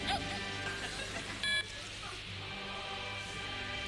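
A short electronic beep cue on an Italian TV game show rings out once, brief and clear, over a steady background of studio noise and murmuring.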